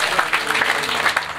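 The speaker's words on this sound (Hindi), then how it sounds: "एक बार कार्यकर्ताओं के वास्ते जोरदार तालियां बजाओ" An audience claps for the event organizers at a live comedy program, a short burst of brisk, many-handed applause at steady moderate loudness.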